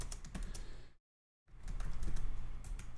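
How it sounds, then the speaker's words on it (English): Fast clattering keystrokes on a computer keyboard, up close, in two bursts split by a short silent gap, with no talking. "Just type in ready to start"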